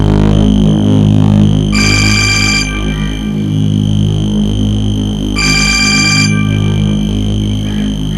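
A telephone rings in two electronic bursts separated by a few seconds of pause in a TV drama scene, standing out over a steady low hum.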